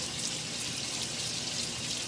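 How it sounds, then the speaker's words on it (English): Cold water drizzled over cooked linguine in a small kitchen, a steady continuous hiss and splash of running water, quiet and unbroken with no talking. "if you want to stop the cooking process of your pasta, just drizzle it with some cold water"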